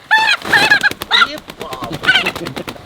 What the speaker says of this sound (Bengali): এই মুরগিটা আজকে সকালবেলা আমি চন্দন যে নিয়ে এসেছি